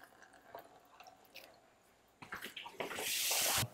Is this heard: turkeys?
no